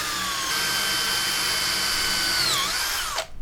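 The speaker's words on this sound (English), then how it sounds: "So I'm gonna drill some bigger holes here and start using those bolts." A power drill bores bigger holes in wood for bolts, a loud, close, continuous whine that holds steady, then dips in pitch as the bit bites and winds down at the end.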